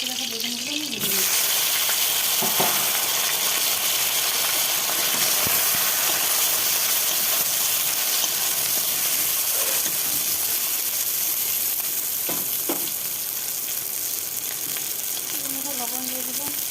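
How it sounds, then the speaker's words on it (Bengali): Sliced eggplant frying in hot oil in a wok, a loud steady sizzle that runs throughout, with occasional clinks and scrapes of a utensil. "কড়াইতে আমরা তেল দিয়ে দিলাম, বেগুনগুলো কেটে রাখা বেগুনগুলো আমি ভেজে নিই।"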